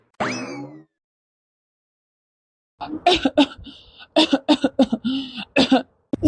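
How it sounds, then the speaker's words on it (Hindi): A single harsh cough near the start of a cartoon, followed by silence and then someone talking rapidly in Hindi. "आपकी खांसी दिन ब दिन बढ़ती जा रही है।"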